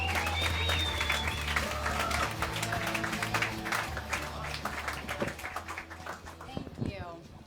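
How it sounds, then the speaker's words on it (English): A comedy club audience applauds and cheers as a roast comedian takes the stage at a main event. Steady clapping and crowd noise run under a host's voice and music, then thin out near the end. "Clap it up for the one and only Rosebud Baker."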